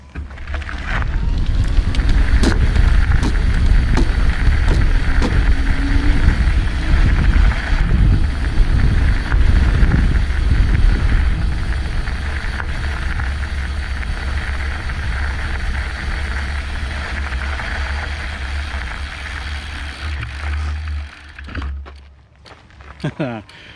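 Bafang M600 mid-drive e-bike motor on an M2S All Terrain full-suspension bike at level 5 pedal assist in the lightest gear, heard as a steady loud drone with heavy wind rush and rolling noise for about twenty seconds, easing near the end.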